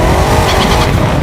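A Ford Mustang GTD accelerates hard on the Nürburgring Nordschleife, its engine roaring loud and steady with a broad, dense rumble and a faint tire edge, heard close and without voices.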